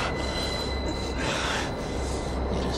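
A subway train in The Matrix approaches along the track with a loud, sustained roar, grinding wheels and a high metallic squeal, filling the whole span with no talk.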